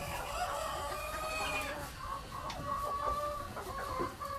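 Large laying hens of a cold-hardy breed, about 3 to 6 pounds each, cluck and crow continuously in a close, busy flock with no talk.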